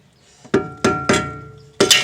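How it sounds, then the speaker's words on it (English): Four sharp metallic hammer strikes ring out at an uneven pace, each leaving a brief clanging resonance, hammering bent metal back into place during a BMW 325i front wheel bearing replacement. "then we'll hammer it right back in"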